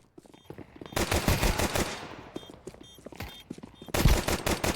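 Counter-Strike 2 gunfire rattles in rapid automatic bursts, loud and close, with short pauses between volleys and a final heavy burst near the end, with no talk over it.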